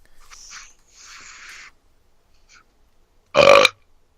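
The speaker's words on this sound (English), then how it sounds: "I was burping" A single loud, close burp comes near the end, after some quieter mouth sounds and murmurs.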